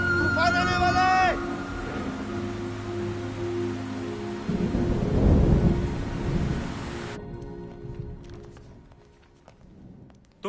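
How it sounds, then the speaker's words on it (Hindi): Thunder rolls in a deep, swelling rumble through steady rain during a storm, peaking midway then fading; a voice is briefly heard at the start. "तूफान आने वाला है।"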